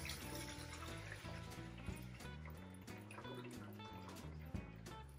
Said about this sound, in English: I'm just gonna pour it through the strainer.